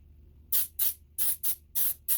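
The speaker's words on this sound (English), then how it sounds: "Let's spray a little bit of that in" Polly's 2500 mold release aerosol sprayed into a silicone soft-plastic lure mold, giving six short, sharp hissing bursts in a quick uneven rhythm, close by and with no talk.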